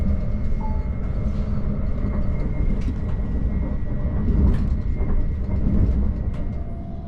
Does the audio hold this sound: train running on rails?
yes